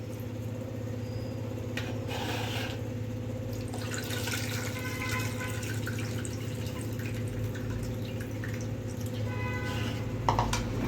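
Rice and lentils for vegetable khichdi are rinsed in water in a home kitchen, with soft, steady splashing and dripping under a constant low background hum.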